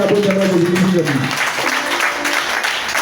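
A church congregation breaks into sustained applause and cheering, with a voice calling out over the clapping before it settles into a steady wash of hand claps.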